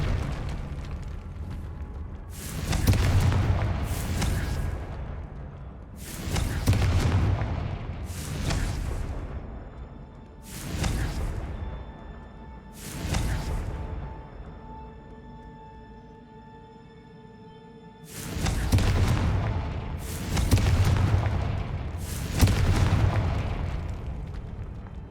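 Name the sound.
Confringo explosion spell blasts in video game Hogwarts Legacy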